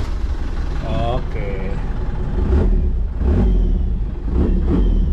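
A Toyota FJ40 fitted with a Mega Cruiser engine cranks and catches, then idles and revs in a few rising bursts, loud and close, while someone talks over it.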